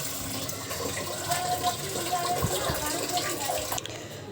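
Running tap water splashes steadily over whole boal fish (wallago catfish) being rinsed in a kitchen sink, a continuous close gushing wash with faint background noise throughout.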